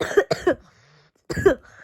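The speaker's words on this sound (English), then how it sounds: "if I do cough too much" A person coughs twice in quick succession, then coughs once more after a short pause. The coughs are close, loud and raspy, with nothing else around them.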